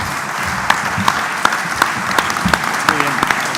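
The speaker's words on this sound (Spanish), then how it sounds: "Yo me voy a levantar para aplaudirle." An audience claps steadily after a writer's talk on a Visigothic treasure in Toledo, a dense sustained round of applause with a few sharper claps standing out.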